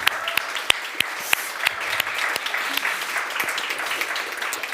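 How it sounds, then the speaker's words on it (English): A crowd at the W7 Summit 2022 applauds the W7 advisors: sharp individual claps punctuate a continuous wash of clapping throughout. "Some applause for our W7 advisors here, please."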